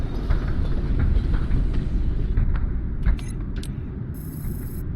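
A train rumbles past below in the video game Loopmancer, a loud, low, continuous roar with rhythmic clatter, topped by brief game effect sounds near the end.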